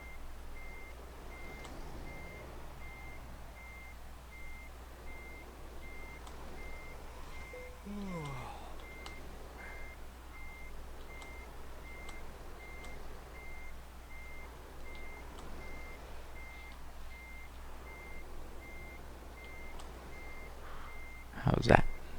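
Truck reversing alarm in Euro Truck Simulator 2, a steady repeating beep running the whole time over a constant low engine hum, with faint background noise and a brief louder bump near the end.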